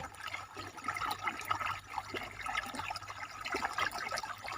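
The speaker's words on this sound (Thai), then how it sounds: "บรรยากาศท้องทุ่งนา น้ำไหล" Water flowing through Thai rice paddies: a steady, soft trickle and gurgle running continuously in the open field, with no talking.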